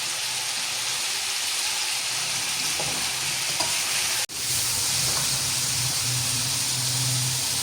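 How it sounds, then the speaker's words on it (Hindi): Chicken for biryani fries over a high flame with a loud, steady hiss and sizzle. Faint clinks of stirring come through, with a brief gap in the middle, then the sizzle returns with a low bubbling undertone. No one talks. "तेज़ आंच पे चिकन की फ्राई करना होता है गोल्डन"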